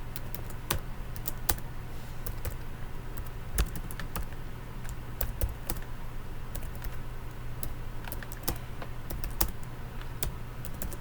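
C++ code is typed on a computer keyboard, with close, steady key clicks and occasional louder strokes over a low background hum.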